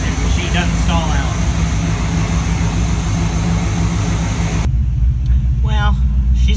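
A 1982 Pontiac Trans Am engine idles steadily while warming up after a cold start, a loud close low rumble that continues throughout, with someone talking briefly over it near the end.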